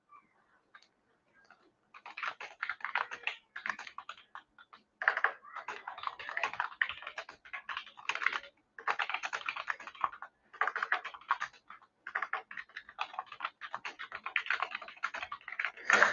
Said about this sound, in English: So yeah, I'm just typing this in.